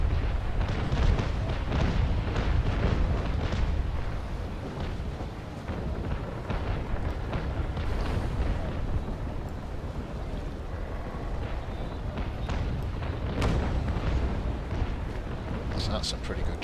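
Ship cannons fire in a shallow-water port battle in the naval combat game Naval Action, giving a dense, continuous roar of overlapping booms and rumbling broadside blasts throughout.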